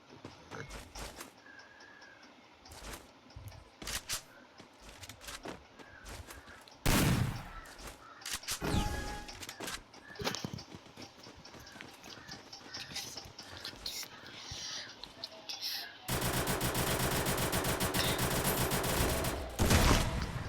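Gunfire from a Free Fire Max battle royale match, including sniper shots: scattered sharp bursts and single cracks, a couple of loud broadband blasts near the middle, then a sustained dense stretch of noise toward the end, with no talk.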